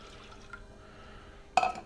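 Two cups of water are poured into a pot for cooking rice, a short splashing gush that starts abruptly after a quiet stretch.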